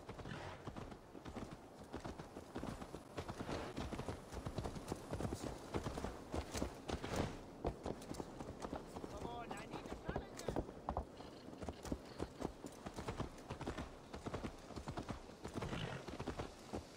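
Horse hooves clip-clop steadily through Assassin's Creed Valhalla, a continuous walking rhythm of close, even thuds, with a brief whinny, under and between spoken dialogue.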